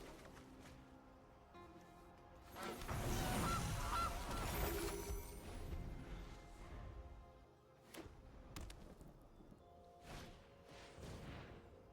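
Goose honks and fowl squawks from the Gilded Goose card in MTG Arena rise loud over game swooshes, then a few softer honks and thumps follow. No one speaks.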